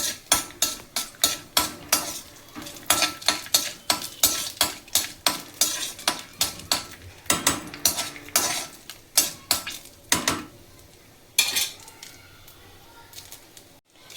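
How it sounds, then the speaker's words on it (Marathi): Cashews and almonds are stirred in hot ghee in a pan, a spoon scraping and clacking in a steady rhythm over a soft sizzle, with brief pauses near the end. "तर आपण ह्यावरती ना आता हे काजू बदाम परतूया।"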